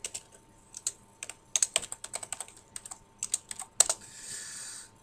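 Fingers type on a computer keyboard at close range, irregular bursts of key clicks with short pauses and a brief run of faster tapping at the end.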